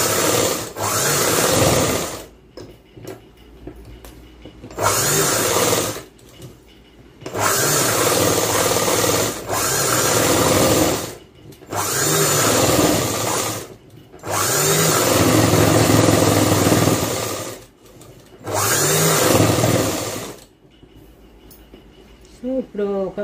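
A sewing machine runs in repeated bursts of steady whirring as it stitches the front part of a blouse with long stitches, loud and close, with short pauses between runs.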